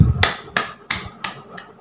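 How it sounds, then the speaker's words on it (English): Children clap their hands along with a nursery rhyme activity: five sharp, evenly spaced claps, crisp and fairly close, each ringing briefly before the next. "Clap your hands."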